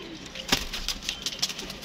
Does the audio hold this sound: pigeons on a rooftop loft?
yes